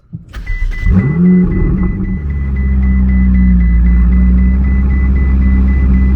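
A Ferrari 488 GTB's engine starts with a sharp starter whir and bark, rises into a loud rev, then settles into a steady, deep, close idle that runs on alone.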